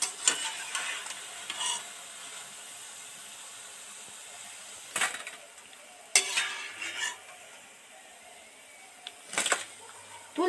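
Shrimp mince fritters frying in hot oil at low flame, a soft continuous sizzle broken by a few sharp scraping and clinking bursts of a slotted spoon against the pan, close and fairly quiet.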